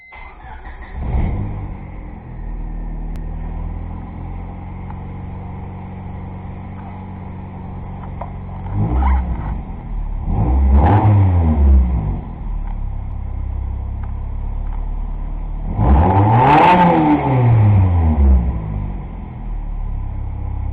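A 2000 Honda Civic with a D16 engine, just fitted with a new knock sensor, cranks and starts, then settles into a loud steady idle broken by three sharp revs, all close by and free of speech.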